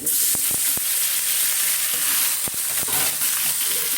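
Bitter gourd frying with onions in a home kitchen pan, giving a steady, loud, close sizzle with a few sharp clicks of stirring scattered through it.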